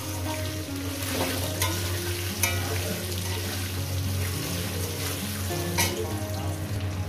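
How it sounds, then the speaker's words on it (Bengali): Potatoes frying in a pan for a fish curry, a steady close sizzle with a few faint utensil clinks and no talking. "এবার আলুগুলোকে 4-5 মিনিট ধরে আমি ভেজে নিই"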